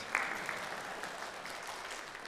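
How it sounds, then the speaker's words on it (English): Congregation clapping at a Sunday worship service, a dense, steady patter of many hands filling the room, fairly faint and continuous with no talk over it. "Give me a round of applause."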